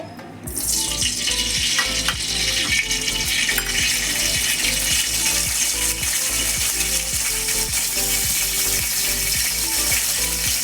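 Spices for paneer Kolhapuri hit hot oil in a tempering: a sudden, loud, bright sizzle that holds steady with scattered crackles and pops, close and continuous with no voices.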